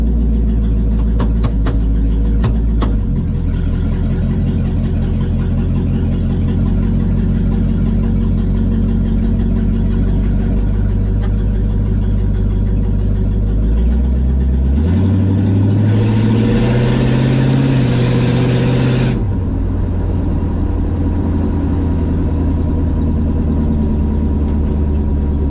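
A 1976 Chevy Luv pickup truck's engine drones loudly and steadily from inside the cab while driving around the block on a test drive after a brake repair, with a rising rev and shift partway through.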